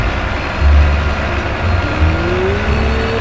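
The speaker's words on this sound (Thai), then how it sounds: "หมุนหมุนหมุนเอาเร่งเครื่องครับดูสายพานวิ่งนะครับ" Tractor engine revving in Farming Simulator 19, a loud steady low drone with a rising pitch sweep as the throttle opens, close and continuous with no talking.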